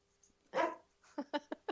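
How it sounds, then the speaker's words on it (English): A dog barks close by: one longer, rough bark followed after a pause by a quick run of four short, sharp barks. "my dog's very disturbed by this"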